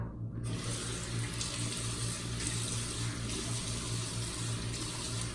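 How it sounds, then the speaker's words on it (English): Tap water runs steadily into a bathroom sink while a man wets his face before shaving, a constant close rushing stream from start to finish with no voices. "I'm going to wet my face and see what that does."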